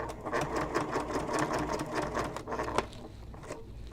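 A sewing machine bastes fabric for a messenger bag, running in a fast, steady mechanical patter of stitches, close and fairly quiet, with no talk over it.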